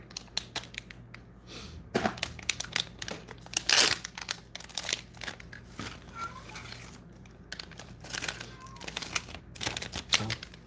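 Plastic bag around a solder practice fidget spinner kit crinkling and crackling as it is opened, in irregular close bursts with one louder rustle partway through.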